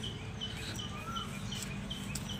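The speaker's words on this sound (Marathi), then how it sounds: "कोकिळाचा आवाज आहे, चिमण्यांचा आवाज आहे" Faint, sparse koel and sparrow calls with short high chirps scattered over a steady quiet background hum in a village lane in the morning, distant and soft.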